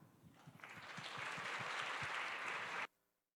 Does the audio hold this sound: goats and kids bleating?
no